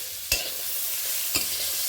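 Jackfruit seeds fry in a pan with sesame paste and spices, giving a steady hiss. A spatula scrapes and stirs twice.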